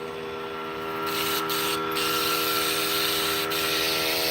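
A Critter paint sprayer sprays Kilz white chalk paint onto a vintage armoire wardrobe, making a steady close hiss with a constant tonal hum beneath it. The hiss breaks off briefly a few times.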